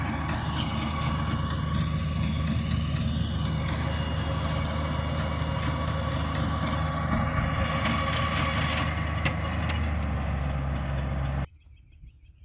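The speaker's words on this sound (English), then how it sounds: "It's a RK37. It's a 35 horsepower tractor, 4-wheel drive." An RK37 35-horsepower four-wheel-drive tractor engine runs steadily in a garden plot, a continuous low rumbling drone at close range that cuts off abruptly near the end.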